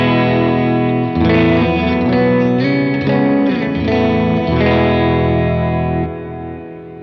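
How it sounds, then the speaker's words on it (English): Electric guitar played through a Line 6 Helix modeler with a cave reverb effect, distorted sustained chords ringing out with a wide, echoing wash that lingers and fades after the playing stops. "So from there, I have what is called a cave reverb."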